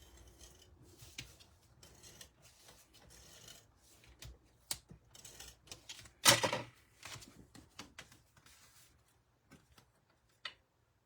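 Cardstock for a Stampin' Up Christmas card kit is trimmed down to 4 by 5 1/4 inches, heard as sparse soft scraping and ticking cuts with one sharper, louder slicing burst midway, close and otherwise quiet.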